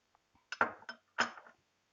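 Whisk clinking against a bowl while labneh and sugar are beaten into a cream, a few quick metallic taps in two short bursts, close and fairly quiet, with no talking.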